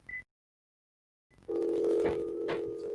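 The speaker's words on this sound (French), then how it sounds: "On va appeler la mairesse Plante." A telephone dial tone before a call: a short tone blip, a second of silence, then a loud, steady dial tone that holds to the end. A few clicks sound over it.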